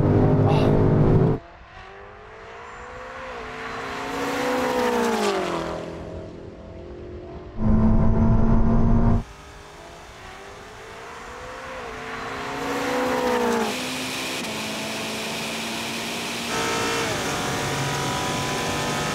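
BMW M5 and Ferrari SF90 hybrid launching side by side in a drag race, engines roaring loud and near with rising revs, sharp gear-change breaks and repeated surges as they accelerate hard.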